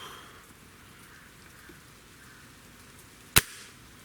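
Single shot from a Remington Thunderceptor air rifle, one sharp crack near the end against a quiet background of light outdoor hiss resembling rain.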